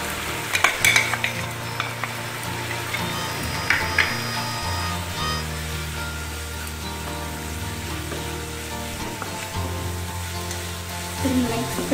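Capsicum pieces coated with chickpea flour (besan) are stirred in an oiled pan over a low flame, producing a continuous soft sizzle with repeated scraping strokes and a few sharper clinks, under faint background music.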